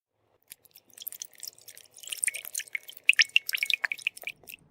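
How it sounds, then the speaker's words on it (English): Lime juice being strained to remove the seeds, a quick series of small close drips and trickles, irregular and fairly faint against silence. "And I'm just straining it to remove the seeds."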